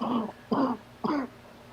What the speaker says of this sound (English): Who's coughing? That's me. I have bad allergies.